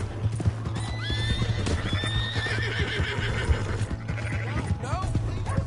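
A horse whinnies repeatedly over busy hoofbeats in a PS4 video game, loud and near, with a steady low hum and people talking throughout.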